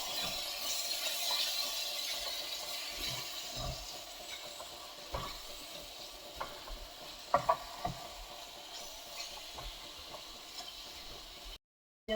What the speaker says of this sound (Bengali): এই জলগুলো নিলাম দিয়ে এটা পেঁয়াজের সঙ্গে ভালো করে কষিয়ে নেবো